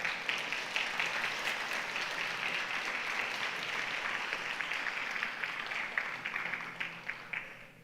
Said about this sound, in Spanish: Dale un aplauso al Señor entonces.